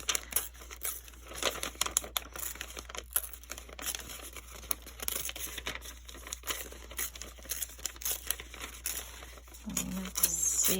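Thin newspaper print paper being torn by hand for a collage, with crinkling and rustling bursts close up, fairly quiet and continuous with a heavier tear near the end.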